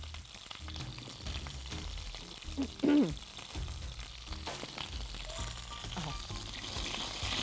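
Onions caramelizing in a pan while being stirred, a steady close sizzle with occasional scraping, under a voice speaking briefly.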